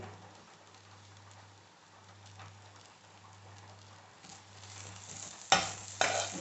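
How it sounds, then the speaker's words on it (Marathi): Grated coconut stirred and roasted in a pan for sweet modak filling, with soft stirring and faint sizzling that turns into sharper scraping strokes near the end, while a pigeon coos steadily in the background. "खोबरं परतवून घ्यायचं आहे थोडंसं।"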